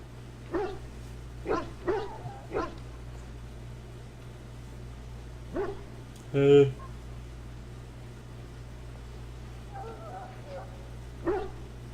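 A dog in Dragon Age: Origins gives a run of short, sharp barks in the first few seconds, then a lone bark, a whining yelp and a final bark, all over a steady low hum.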